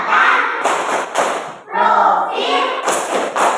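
Voices chant in unison through a classroom clapping routine, with short sharp hand claps landing in a steady rhythm between the chanted phrases.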